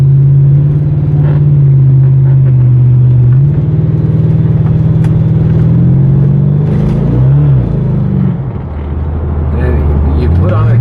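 A C4 Corvette engine hums loudly from inside the car while driving, with a steady low drone that shifts pitch as it accelerates and eases off, and a voice speaks over it at times.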